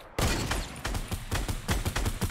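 Rapid burst of video game gunfire, a headshot volley of loud, closely spaced shots repeating steadily for about two seconds with no talk over it.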